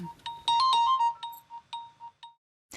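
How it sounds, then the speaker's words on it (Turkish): A phone ringtone plays nearby, a bright electronic chime in a quick run of tones, then several short repeated beeps before falling silent. "Annem arıyor olmalı"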